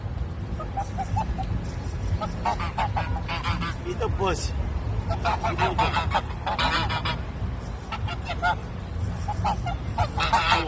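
Ducks honk and quack in a loud, busy run of repeated calls, with someone talking over and between them throughout.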